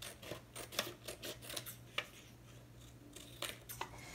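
Big scissors cutting paper in a home classroom setting: a quiet, irregular series of crisp snips and paper rustles, close to the listener, over a steady low hum.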